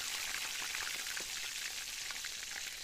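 Baung fish roe fries in a hot pan outdoors in a village, giving a continuous dense sizzle and crackle of oil, fairly close and steady throughout with no talking.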